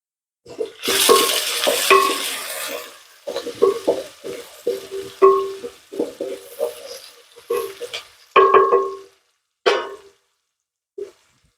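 Onion frying for foul medames while being stirred in a pot: a burst of loud sizzling, then an uneven run of spoon scrapes and clatters with pauses between them. The sounds are close, with no talk.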